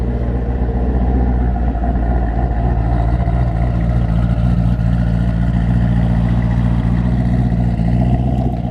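A 1000hp Camaro ZL1 pulls out and drives off, its deep engine rumble steady and loud throughout with no talk over it.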